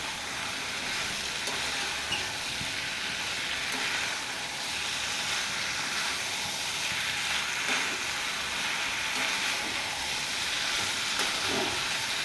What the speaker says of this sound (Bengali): এইভাবে আমি ভালো করে কষিয়ে নেব পটল আলুটা।